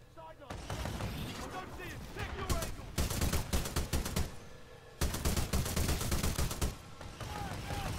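Rapid automatic gunfire in Titanfall 2 rattles in long, dense bursts, loud and close, with a short pause between volleys while a player's voice talks over it.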